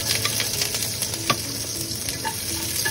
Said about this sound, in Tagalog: So, once na mainit na yung mantika, nilagay ko na yung luya. Then, bawang na.